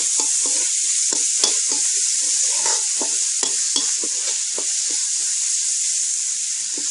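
Beef stir-fried with holy basil, Isan home style, sizzles loudly in a hot pan. A constant hiss runs throughout, broken by repeated scraping and clacking as the food is stirred.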